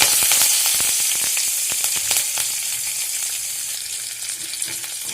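Mustard seeds and curry leaves sizzle and crackle in hot oil while bisi bele bath is being cooked, giving a dense, loud and close spitting hiss with sharp pops that runs steadily throughout, with no talking.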